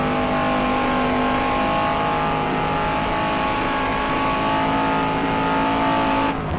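A Shelby Cobra 260 races at Goodwood in the rFactor 2 sim, its engine holding a loud, steady high-revving drone with a strong tonal whine and faint tire noise, continuous until it cuts off abruptly near the end.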